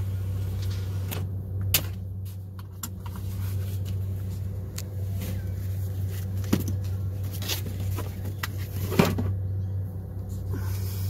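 Car doors open and shut in a few sharp knocks as people get out of a car waiting at the front of the line on the Galveston ferry, over a steady low engine hum.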